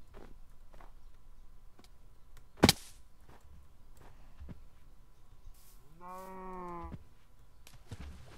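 Cow in the Minecraft video game gives a single clear, drawn-out moo near the end, preceded by a sharp click and scattered soft footsteps in an otherwise quiet scene.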